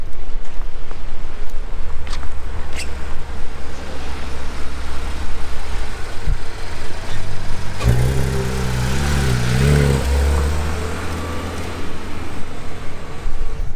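A Porsche 911 R with a six-cylinder engine and manual gearbox approaches, its engine note swelling loud and close partway through over steady background road noise.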